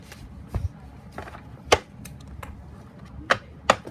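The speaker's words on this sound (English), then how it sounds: "So I have a deck, a normal deck. I'm gonna shuffle it." Close, irregular clicks and soft snaps of playing cards being shuffled, a handful of sharper flicks standing out from quieter rustling.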